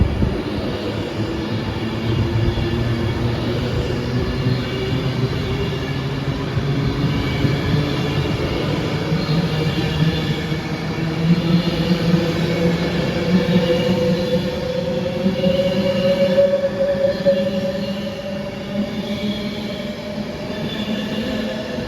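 An Avanti Class 390 electric train, a diverted Glasgow Central to London Euston service, passes through Stoke-on-Trent with a steady loud rumble and rising hum lasting the whole stretch, swelling slightly midway before easing.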